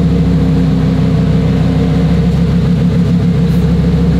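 Twin-turbo Lamborghini Huracan STO V10 with Garrett G40 turbochargers running steadily, a loud, continuous low engine drone with a dense, even rumble and no voices.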